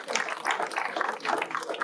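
Audience at a MEDEF business New Year's ceremony applauding newly appointed labour court councillors, with steady dense clapping at moderate volume from a room full of people.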